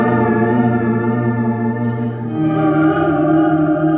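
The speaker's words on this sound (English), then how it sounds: "What better way to utilize a really pretty organ sound than to run it into other pedals like reverb?" Sustained organ-like chord from an electric guitar run through a reverb pedal, with a lush, wide reverb and chorus shimmer, notes blending and swelling smoothly, played alone without talk.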